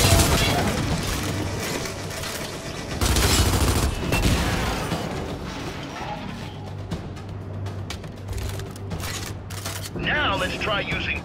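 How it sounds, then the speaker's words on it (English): Bursts of gunfire from Gears 5, a character blind firing from behind cover, with heavy, sustained shooting layered under a game voice and soundtrack. "Now let's try using blind fire to destroy them while keeping yourself protected and covered."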